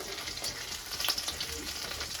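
Shutki, dried fish, frying in a home kitchen pan, giving a close, steady sizzle dotted with sharp crackles and small pops throughout.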